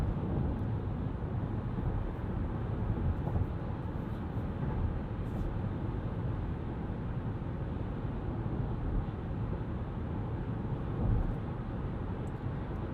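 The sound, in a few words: Chevrolet Bolt EV electric car interior at 70 mph, wind noise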